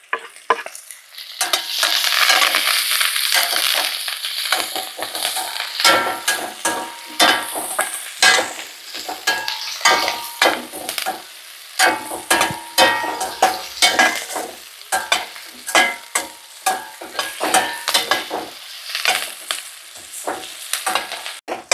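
Onions and curry leaves fry in hot oil for chicken fry, a loud, steady close-up sizzle broken by frequent scraping stirs of a spoon against the pan.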